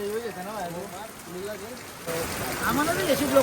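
Heavy rain falls steadily on a surface during a temple visit, a constant hiss that rises louder in the second half, with speech clearly audible over it at the start.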